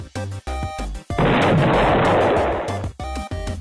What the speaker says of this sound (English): I shoot nukes from my weapon.